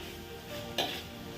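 Spices for a tempering sizzle in hot oil in a clay pot while a spoon stirs them for bisi bele bath, a steady frying hiss with a sharp scrape of utensil against the pot.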